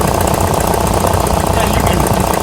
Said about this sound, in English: start up the vehicle so you can hear it, and you'll be able to hear the air coming through there